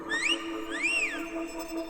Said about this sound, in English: Another whistled.